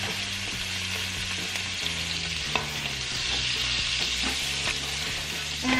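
Two scallops frying in butter in a pan give a steady close sizzle, with soft clinks and spooning sounds as hot butter is basted over them.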